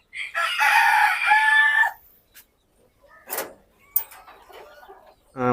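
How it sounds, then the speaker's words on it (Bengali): A black tail Japanese bantam rooster lets out one loud, close crow lasting about a second and a half, followed by quieter clucks and faint bird calls. "এইখানে আছে তিনটা ব্ল্যাক টেল জাপানিজ ব্যান্থাম দুইটা ফিমেল একটা মেল"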